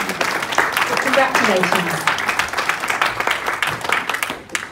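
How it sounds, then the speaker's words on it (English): Audience applause fills an awards ceremony hall with dense, steady clapping, loud and close, while a voice speaks briefly over it before the clapping thins toward the end. "Another round of applause"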